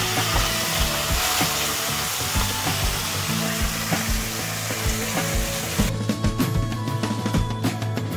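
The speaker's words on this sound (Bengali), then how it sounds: "ইলিশ মাছের মাথা আর লেজটা ভেজে নিচ্ছি।" Hilsa fish head and tail frying in hot oil, a steady close-up sizzle and crackle running throughout with occasional stirring scrapes and knocks of a utensil in the pan.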